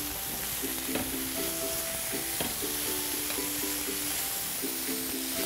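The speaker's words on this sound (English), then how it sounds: "The burgers have been cooking for about 3 minutes." Burgers with a Kona coffee rub sizzling on a grill, a loud, steady hiss of frying that runs the whole time under faint tonal music, with no talk.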